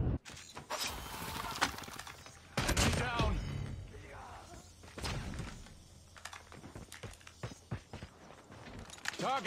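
Gunfire from a sniper rifle, the Rytec AMR, in Call of Duty Mobile cracks in a few sharp, loud bursts amid scattered clicks and impacts, with softer game noise between shots.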